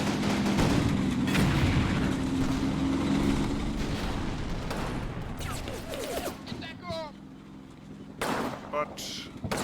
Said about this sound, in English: We are giving fire support from the other tank, so that's good.